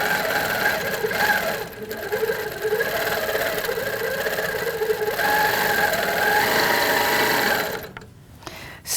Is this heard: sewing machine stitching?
yes